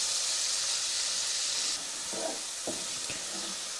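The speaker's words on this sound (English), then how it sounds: "Then we cook the onions with the cumin and we add our cloves." Onions cooking with cumin and cloves in a pan give a steady broadband hiss and sizzle that eases about halfway through, with a few soft stirring knocks near the end.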